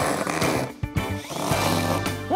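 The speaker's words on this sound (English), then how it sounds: "I'm gonna use this power drill here." A power drill runs in sustained, buzzing bursts close by while driving screws to fit wheels on a homemade sliding door, with brief pauses and changes in pitch.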